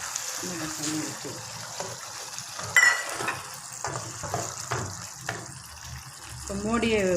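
Water poured into frying masala in a pan while cooking cuttlefish sambal, giving hissing sizzle and splashes with clattering stirring, and a voice is faintly heard.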